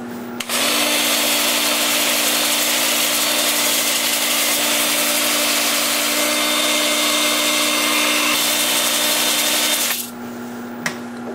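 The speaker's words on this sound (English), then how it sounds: "I'm going to start the sanding with 80 grit on my 2-inch disc sander. The lathe will be spinning in reverse at about 350 RPM." Box elder wood being sanded with an 80-grit 2-inch disc sander while the lathe spins in reverse at about 350 RPM: a loud, steady whirring and abrasive hiss running nearly ten seconds, then stopping abruptly.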